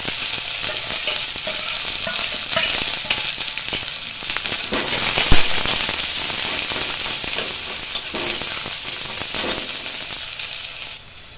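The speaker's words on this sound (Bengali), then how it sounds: "এবার গ্রেভি মোমো করার জন্য আমি এখানে নিয়ে নিয়েছি পেঁয়াজ, কাঁচা লঙ্কা, রসুন, একটু আদা কুচি। এগুলো তেলের মধ্যে দিয়ে দেবো।" Chopped onion, green chili, garlic and ginger frying in oil for gravy momo, a loud, dense, continuous sizzle with crackling pops and occasional stirring clatter, fading slightly at the very end.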